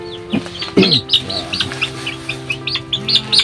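Chicks cheep in rapid, high-pitched peeps, close and persistent, while a hen clucks low a few times underneath.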